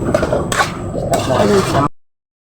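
A utensil clinks and scrapes against a pan as egg is quickly stirred into bitter gourd (ampalaya con itlog), close and busy for about two seconds before cutting to silence.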